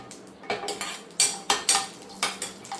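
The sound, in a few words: semolina being roasted with ghee in a pan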